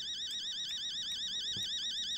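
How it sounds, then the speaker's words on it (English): A harsh electronic alarm rings in the Fears To Fathom horror game Home Alone, a steady warbling siren tone that repeats in a fast rising and falling cycle, continuous and moderately loud across the whole moment. "That is an awful alarm."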